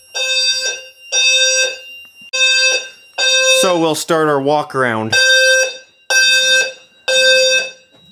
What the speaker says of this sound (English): Can actually hear the annunciator pretty loud right here.